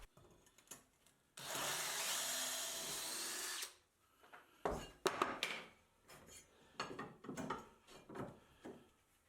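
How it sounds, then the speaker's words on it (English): A diamond drill bit cuts a hole in a wall tile around a copper pipe, giving one sustained grinding whine of about two seconds, followed by scattered clattering and handling knocks. "here I'm using a diamond drill bit to cut a hole around my copper pipe"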